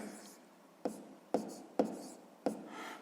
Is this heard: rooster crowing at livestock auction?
no